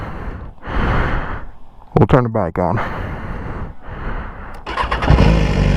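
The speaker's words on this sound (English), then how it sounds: "now we'll turn the bike on." A motorcycle is switched on and started up close: breathy rushing noises and a brief whirring burst come first, then the engine catches near the end and settles into a loud, steady low rumble.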